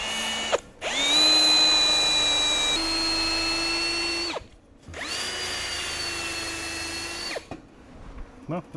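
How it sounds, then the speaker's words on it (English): A power tool fitted with a wire wheel cleans up a fresh weld on a RAM 2500 diesel exhaust pipe, running in two loud, sustained whining bursts about four seconds long, with a short gap between them. "I'm gonna clean this up with a wire wheel just a little bit."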